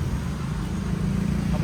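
Busy Bangkok street traffic with tuk-tuks, taxis and motorbikes, a steady low rumble of engines close by, continuous with no breaks over a short stretch.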